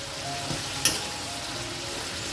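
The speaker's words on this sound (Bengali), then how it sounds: "ভালো করে মিশিয়ে নেবো এটাকে আমি" Fried pointed gourd, rice, cashews and raisins being mixed in a pan give a soft continuous frying sizzle, broken by one sharp scrape or clink of the spoon and a brief knock at the end.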